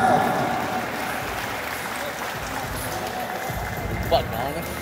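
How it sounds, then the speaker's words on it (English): A boxing crowd at the Kumong Bol-anon XII fight night applauds and roars for two boxers in the ring, a broad, steady wash of noise with an announcer's voice over it. "let's give a round of applause to our two boxers inside the ring"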